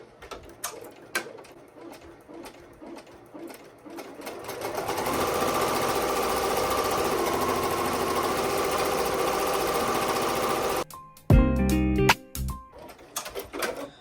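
An embroidery machine stitching a purple outline, its rapid mechanical needle chatter building into a steady loud whir, then stopping, followed by a few heavier knocks and clunks close up.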